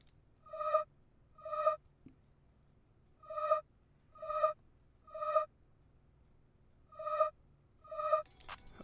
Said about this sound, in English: exported it and reversed them, as you can see here. Pitched them up 12 semitones or an octave, and added no effects to that